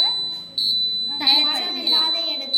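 An earthquake warning alarm gives off repeated high electronic beeps in short pulses, loud and close, while a person speaks over it.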